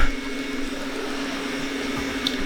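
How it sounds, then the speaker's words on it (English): A Xiaomi Roborock S6 MaxV robot vacuum mop starting to clean, giving a steady motor whir and airflow hiss with a faint tonal hum, constant and close. "Starting to clean. And now vacuum cleaner will create a new map."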